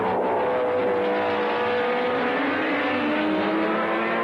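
Race cars roar around a track as Bobby Unser in a White Eagle leads early, a steady, dense engine drone heard from a distance with no breaks or voices.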